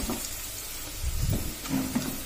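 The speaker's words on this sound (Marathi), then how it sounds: "मसाले छान तेलात परतून झाले की त्यानंतर लगेच आपल्याला दाण्याचा कूट टाकून घ्यायचा आहे." Crushed peanuts frying in oil with spices: a soft continuous sizzle with low thumps and scrapes of stirring in the pan.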